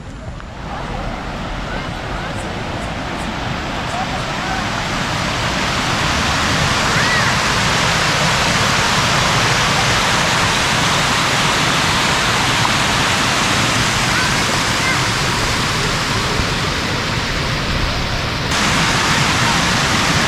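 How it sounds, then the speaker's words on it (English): Lake water overflowing in Chennai after rains rushes in a loud, constant roar of falling water that stays steady throughout, with voices faintly mixed in. "The water is overflowing from here, and let me show you how it overflows."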